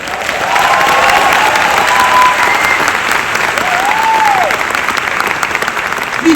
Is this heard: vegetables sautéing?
no